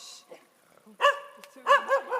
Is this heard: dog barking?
yes